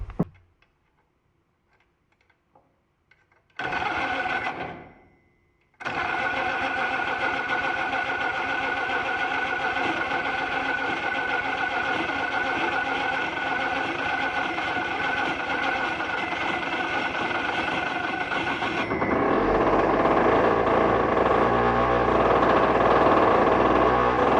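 A starter motor cranks the engine of a Belarus MTZ-52 tractor, energised by shorting it with a wrench. A short whirring burst comes first, then a steady mechanical whir and rattle runs about thirteen seconds and grows louder near the end, with no talk.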